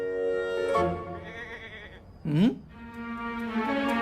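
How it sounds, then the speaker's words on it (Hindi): A goat bleats once, a short wavering cry heard over a steady tonal music bed in an animated film scene. "बकरा तो बकरी की ही आवाज पे आएगा ना"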